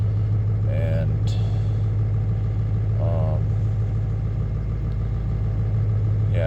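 A Ford 7.3 Powerstroke diesel idling after a cold start on a new glow plug relay, a steady low droning rumble throughout, close by, with brief talk over it.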